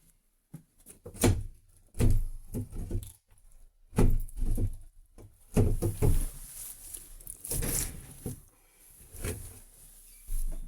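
People force at an apartment door in Zhytomyr, producing a series of irregular thuds, knocks and rattles with scraping and jangling in between, near and moderately loud, without talk.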